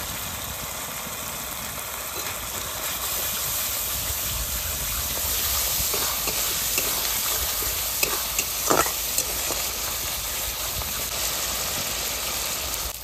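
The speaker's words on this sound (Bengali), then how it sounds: "টমেটো দেওয়ার পরে ভালো করে মশলাটা ভেজে নিয়েছি।" A spice paste with tomato fries in a pan with a steady, close sizzle and hiss, and a few scraping stirs and clinks stand out near the end.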